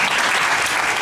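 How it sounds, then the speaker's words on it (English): Dense crowd applause at a student performance event, loud and steady throughout, a welcoming ovation for an a cappella group taking the stage. "Big round of applause"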